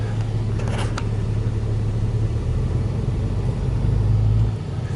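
A 2010 RAM 2500 truck climbs a snowy hill through drifts, its engine a steady low rumble with road noise heard from inside the cab, holding even and slightly swelling near the end, with no talk.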